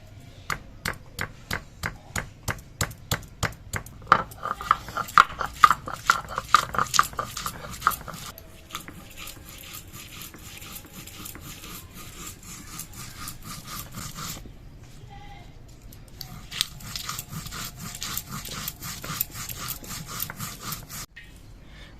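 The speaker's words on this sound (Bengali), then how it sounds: "অল্প একটু আদা আর কয়েকটা কাঁচা লঙ্কা এবার সবগুলো আমি একসঙ্গে বেটে নেব" Ginger, green chillies and cumin being ground into a paste on a stone, a steady run of rhythmic rasping strokes close up that turn into a denser continuous scraping, with no talk.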